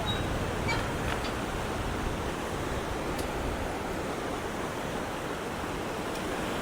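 White water of the Cold River churning below a suspension bridge, a steady broad roar heard from above, constant and unbroken with some wind mixed in.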